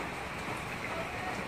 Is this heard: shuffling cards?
no